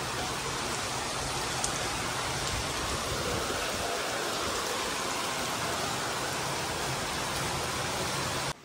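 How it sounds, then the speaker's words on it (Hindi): Heavy rain pours down in a dense, unbroken hiss, loud and constant from start to finish, with no voices. "ये देखो बारिश ही बारिश है, बंद ही नहीं हो रही है बिल्कुल भी बारिश।"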